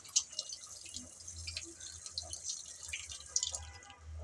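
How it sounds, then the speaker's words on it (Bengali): Vegetables rinsed under a running kitchen tap, with faint, soft splashing and dripping water that continues through the whole passage, quiet and close. "এই সবজিগুলো ধুয়ে নিচ্ছি"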